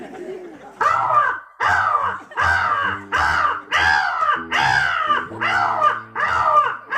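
A man imitates crows cawing at a fellowship gathering, giving about eight loud, harsh caws in a steady rhythm, each call close and drawn out, with no other voices between them.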